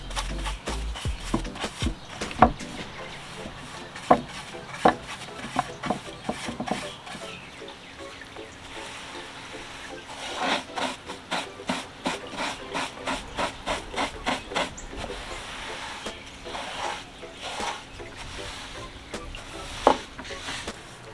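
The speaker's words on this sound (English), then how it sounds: "take my paintbrush and just go over the area to make sure there's no dust or residue on the piece of wood" A paintbrush sweeping dust off a bare-wood thrifted furniture piece, soft repeated rubbing strokes with light taps, faint and close, with no talk.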